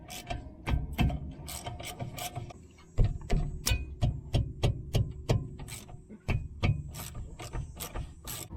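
Ratcheting Allen key loosening the 7mm caliper pins on the brakes of a 2020 Ford Edge Titanium, giving a loud, close run of sharp mechanical clicks in quick bursts with brief pauses.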